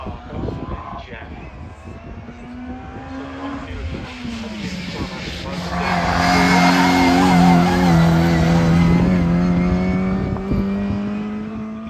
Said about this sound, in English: Classic racing car.